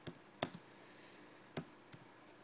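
Keys are typed on an iPad keyboard, giving a handful of soft, sharp clicks spaced irregularly over a couple of seconds. The clicks sound faint and close against a quiet background.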